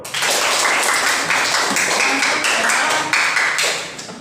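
A group in a classroom setting receives sustained applause, loud, dense clapping from many hands filling the room without a break and tapering slightly at the end.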